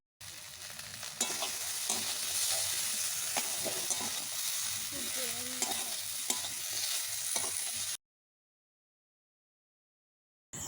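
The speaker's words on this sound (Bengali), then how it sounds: "অল্প জল দিয়ে ভালোভাবে মশলা কষে নেব ভেড়ির সাথে।" Okra and potatoes frying with chilli powder and turmeric, a close, dense sizzle with occasional stirring scrapes that runs for about eight seconds and then cuts to silence.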